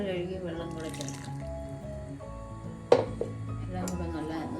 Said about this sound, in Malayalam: ജാറ് കഴുകി വെള്ളം കൂടെ ചേർക്കാം.